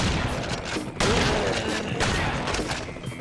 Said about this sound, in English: Shooting mutants in the face with a gun is great.